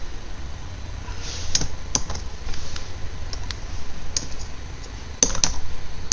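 Someone types steadily on a computer keyboard, the scattered key clicks sharp but fairly soft over a constant low background hiss, with a few louder taps standing out.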